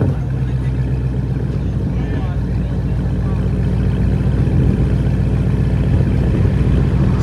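A 2010 Dodge Challenger SRT8 with a 6.1L HEMI V8 and straight-piped exhaust, six-speed manual, rumbles loud and steady at a deep idle throughout, with a slight swell near the end.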